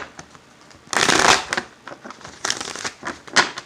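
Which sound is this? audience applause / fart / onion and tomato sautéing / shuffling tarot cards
shuffling tarot cards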